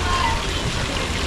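Water flows steadily in a city fountain, a broad continuous wash of splashing close by, with people talking over it.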